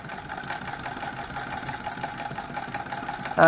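A steady mechanical whir of a sewing machine running continuously, near and moderately loud, ending with a brief louder burst.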